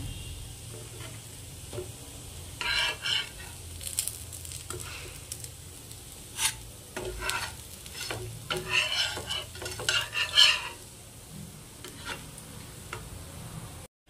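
Suji kakara pitha, semolina cakes, fry in oil on a tawa, giving a soft sizzle broken by sharp ticking scrapes and clatters from a spatula.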